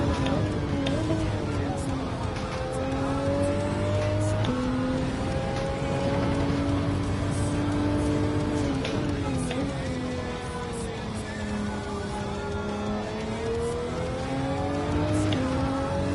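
A Group 4 Toyota Supra race car in a racing video game drives at speed, its engine a steady droning whine rising and falling through gear changes, with someone talking intermittently over it.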